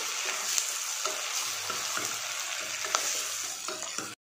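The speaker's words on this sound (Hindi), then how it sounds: "अब इसके अंदर डाल देते हैं इसको हल्का घुमा लेते हैं" Sliced raw mango being stirred into onions frying in a pan, a constant near sizzle broken by soft rhythmic scrapes of the spoon, with no talking.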